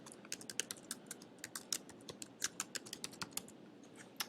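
Quick bursts of typing on a computer keyboard as an essay title is entered, with crisp, close key clicks in an uneven rhythm over a quiet room.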